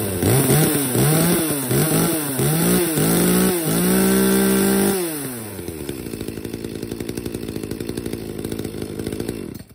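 A chainsaw revs in several sharp bursts, then settles into a loud, steady idle with a rapid pulsing rattle.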